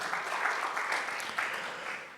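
Congregation at a Sunday church service applauding together, a steady, fairly faint wash of clapping that holds evenly for a couple of seconds with no voices over it.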